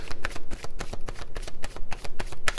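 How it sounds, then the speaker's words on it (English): A deck of tarot cards is shuffled by hand close up in rapid riffling bursts. Sharp flutters and snaps repeat at an uneven rhythm across a few seconds. "I have really mixed the cards up. Shuffle them."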